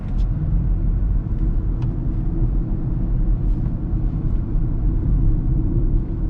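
A 2022 Ford Mustang Mach-E electric car accelerates, heard as a steady, loud low rumble of road and drivetrain noise from inside the cabin that holds even throughout, with no one talking.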